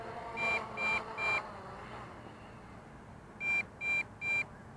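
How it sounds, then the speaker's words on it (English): The low-battery alarm on a small MJX Bugs or Hubsan quadcopter drone sounds as two bursts of three short, bright electronic beeps, quiet and close, separated by a pause with faint background hiss. "That's the low battery alarm."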